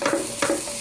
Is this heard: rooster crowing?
no